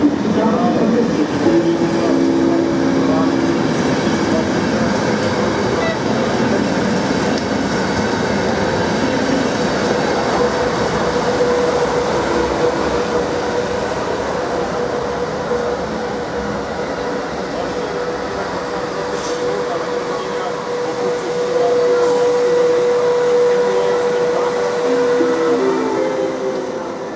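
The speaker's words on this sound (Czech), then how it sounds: "Vlak je připraven k odjezdu." The IC 550 Zlínský Expres pulls out of Zábřeh na Moravě station with a loud, continuous rail rumble and rolling hiss, and steady tonal notes ring over it near the end.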